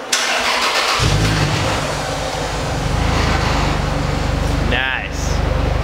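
A Toyota Supra engine idles steadily, a low continuous hum after a brief start-up, with a faint click or chirp near the end.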